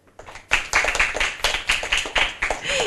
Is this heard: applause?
yes